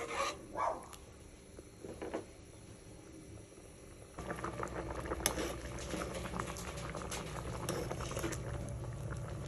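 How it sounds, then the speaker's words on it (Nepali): Millet broth boiling in a pot, faint steady bubbling and light patter close by, growing denser and louder partway through, with no voices. "बुक्लुक बुक्लुक बुक्लुक बुक्लुक उमार्ने।"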